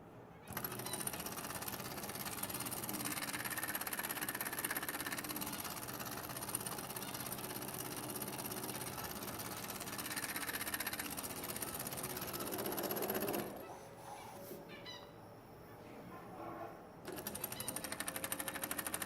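A small homemade oscillating steam engine with a half-inch throw runs with a fast, even mechanical clatter that continues for most of the stretch, briefly easing off near the end before resuming.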